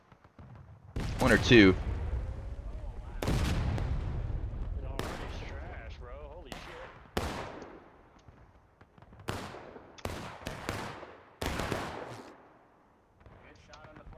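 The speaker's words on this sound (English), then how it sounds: "What we're looking at is pretty much the entire Union team shooting at this one CSA group" Gunfire during a Civil War–themed Blue and Grey battle event, with Union players firing at a Confederate group: repeated sharp bursts and volleys, some close and loud, others fainter, scattered irregularly with a brief spoken word among them.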